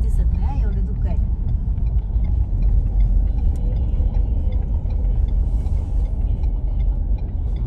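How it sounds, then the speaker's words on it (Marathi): A car drives along a foggy ghat road in the rain, a steady low engine and road rumble filling the cabin throughout, close and constant, with faint ticks above it. "धुक्यात गाडी चालवण्याचा अनुभव जरा औरच आहे."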